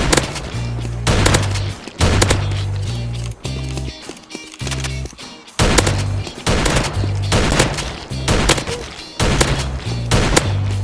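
Mossberg 500 pump shotgun from a Minecraft military gun addon, firing repeatedly in a loud, punchy rhythm of close shots, each blast followed by a brief mechanical pump sound, with music-like low tones underneath.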